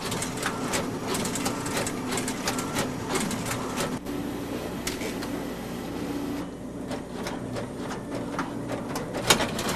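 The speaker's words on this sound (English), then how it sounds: "Pick-and-place machines automatically inspect each electrical component before placing it where the solder paste was deposited." A surface-mount pick-and-place machine setting electronic components onto solder paste: rapid, regular mechanical clicking and whirring with brief pauses, a steady close-up factory rattle.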